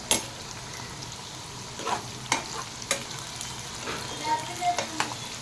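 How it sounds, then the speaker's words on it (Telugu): Bitter gourd pieces fry in hot oil in a pan, giving a quiet, steady sizzle broken by scattered crackles and the odd stirring scrape. "ఆయిల్ మంచిగా వేడయ్యాక మనం ఇందాక కట్ చేసుకున్న కాకరకాయ ముక్కల్ని ఇలా వేసాను"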